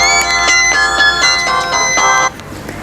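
A mobile phone rings with an incoming call: a loud, repeating electronic melody of bright tones that plays steadily, then cuts off abruptly near the end.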